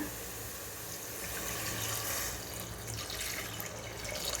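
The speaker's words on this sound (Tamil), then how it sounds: "தண்ணி இதுக்கு மூணு கப்பு நான் ஊற்ற போகிறேன்" Water pouring steadily into a cooking pot nearby, a continuous splashing rush that shifts slightly in tone as it fills.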